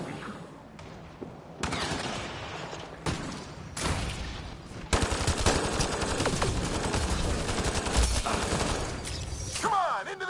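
Gunfire in the sci-fi shooter Mass Effect Andromeda: bursts of automatic fire and sharp single shots crackling densely in a firefight, with impacts and shattering mixed in, loud and continuous after a brief quieter opening.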